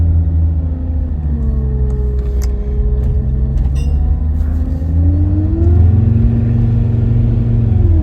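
A Land Rover Discovery TD5 diesel climbs a hill in limp mode, its engine droning steadily up close with a low rumble and a slowly rising and falling pitch, heard on its own with no talk.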